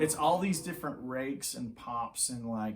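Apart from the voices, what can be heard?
None of the usual background noises is heard.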